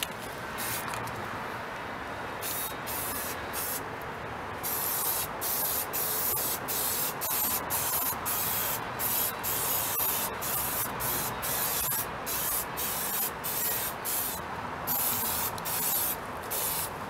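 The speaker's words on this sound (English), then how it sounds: "just give it a nice little spray pretty much everywhere" A spray paint can sprays outdoors onto a gun in a steady hissing stream, broken by many short pauses between bursts, close and continuous for a long stretch.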